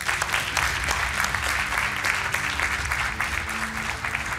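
Studio audience on a Portuguese TV game show applauds a contestant named João, a dense, steady wash of clapping that holds loud and even from start to finish.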